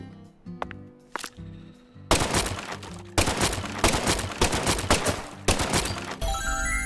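Mr. Alligator, a self-defense tranquilizer gun in Deadly Premonition 2, fires a run of sharp, loud shots at a steady pace after a few quiet clicks, with background music underneath.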